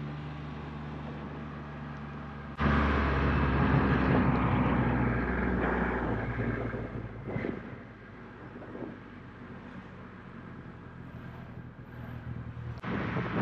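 A Triumph Rocket 3 motorcycle engine roars loud and close while riding, a broad steady rumble that rises sharply after a quieter idle, then eases and swells again, with wind rushing over the microphone.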